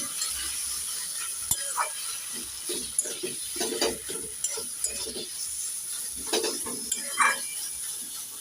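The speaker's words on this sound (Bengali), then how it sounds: "এবার দিয়ে দেব স্বাদ মতো নুন একটু নেড়ে চেড়ে দিয়ে দেবো" Vegetarian taro leaf greens with chickpeas are stirred and tossed in a sizzling pan, with repeated utensil scrapes and clinks over a constant frying hiss, close and fairly loud.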